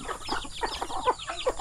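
Many chickens clucking together in a Philippine yard, a dense chorus of overlapping clucks and short calls that goes on steadily, fairly close and loud, with no talking.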